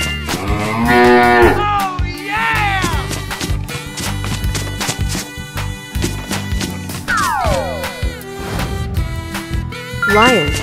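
A cow moos amid a busy children's cartoon soundtrack of animal sounds and music, with cheerful voices around it.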